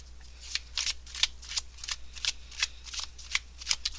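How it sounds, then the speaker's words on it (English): Tarot cards are shuffled by hand at close range, a steady series of quick papery riffles and slaps repeating about every half second, with no talk. "I'm doing the live shuffle today."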